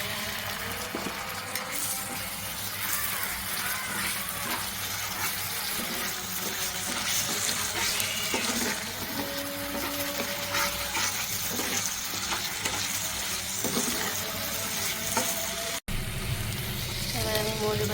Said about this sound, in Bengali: এর মধ্যে আমি যে ব্লেন্ডার ধোয়া পানিটা দিব।